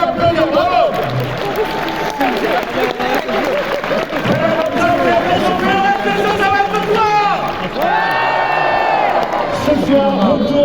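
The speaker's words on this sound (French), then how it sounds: "on peut applaudir, bravo!" An audience at a film presentation claps and cheers loudly and continuously, a full crowd roar with whoops and shouts mixed through it, while voices speak over the noise.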